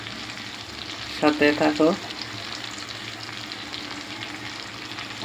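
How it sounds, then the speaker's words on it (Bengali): Fish sizzling steadily in hot mustard oil in a pan, a continuous close frying hiss, with a short spoken phrase partway through. "মাছ ফ্রাইয়ে কিন্তু তোমরা সবাই সরষের তেল দিয়ে মাছ ফ্রাইটা করবে"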